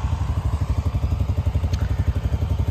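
A tractor engine running on a South Dakota property, a steady rapid low chugging pulse with light mechanical clatter, close and continuous.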